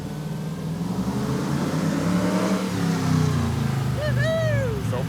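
A Hemi-swapped AMC Gremlin with a rev-limiter problem revs and accelerates while driven down the street, a loud steady engine roar rising in pitch, with a car alarm whooping up near the end.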